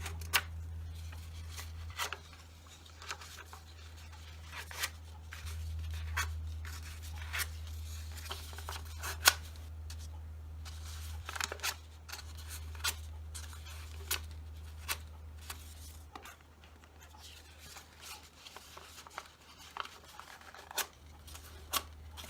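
Paper for a large paper flower is curled over a scissor blade, making faint, quiet scraping rubs and occasional sharp ticks in a short irregular series, close up over a low background hum.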